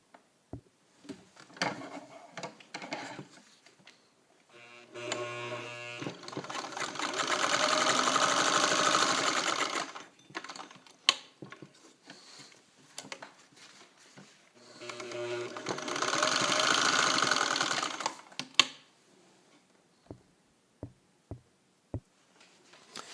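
A Singer 301A sewing machine stitching through several layers of heavy drapery fabric, two sustained runs of steady whirring and clatter separated by pauses with scattered clicks and handling knocks.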